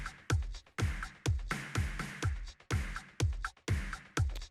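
An unprocessed drum mix plays alone, a steady groove of kick and snare hits with hi-hats, each beat sharp but somewhat thin and uncompressed, at moderate level.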